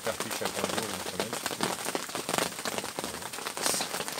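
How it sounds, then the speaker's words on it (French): Rain falls steadily on a riverbank during a carp fishing session, making a dense, continuous patter of close drops hitting surfaces. "vous l'entendez, il pleut"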